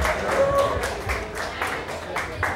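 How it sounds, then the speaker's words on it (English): An audience applauds for Ben Gardner at a live event, with rhythmic bursts of clapping, moderate and fairly close, blended with crowd murmur. "Who wants to give a round of applause to Ben Gardner?"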